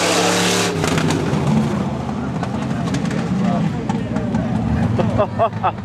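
A race car roars through turn four toward the checkered flag at Seekonk Speedway on NASCAR opening day, a steady loud engine drone with crowd noise and a commentator talking over it.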